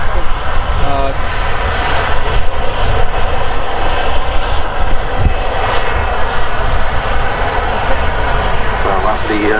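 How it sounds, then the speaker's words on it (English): A KLM airliner roaring loudly as it clears the runway at Manchester Airport, a continuous heavy engine rumble heard from a viewing park, with people talking nearby. "So that's the KLM. Clears the runway."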